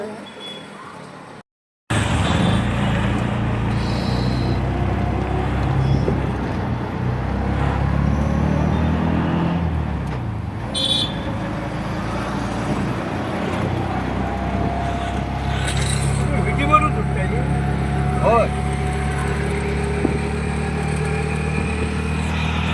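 Auto rickshaw engine running at Kankavli railway station, a steady mid-range motor drone with passing traffic and clatter throughout, after a brief near-silent gap at the start, with some talk in the background.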